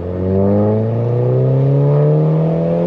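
A car engine revving under light throttle: a loud, close, smooth rising whine with clear harmonic tones climbing steadily in pitch, sustained without breaks and with no talking.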